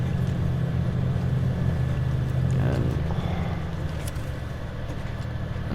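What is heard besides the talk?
truck engine revving in Snowrunner video game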